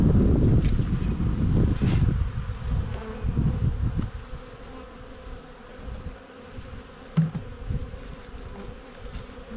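Honey bees from a very strong colony buzz steadily around a feeder filled with syrup, a dense close hum with wind buffeting the microphone and no talking.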